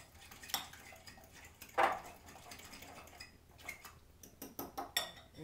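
Creamy sauce mixed in a pan with a utensil, a few close metallic clinks and scrapes against the pan at an irregular rhythm, fairly quiet overall.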